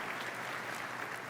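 An audience at a game developer conference event applauds in a dense, steady patter of many hands clapping, heard at a moderate distance.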